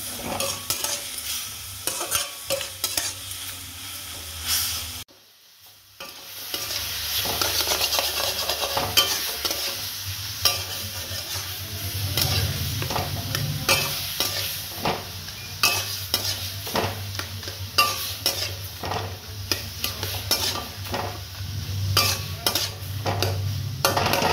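A spoon scrapes and clinks around a pan of carambola chutney with salt and turmeric, steady stirring over a soft sizzle, close up, with a brief pause early on.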